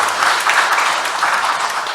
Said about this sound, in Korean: 우리 자매님을 위해서 환영의 박수를 보내주시겠습니다.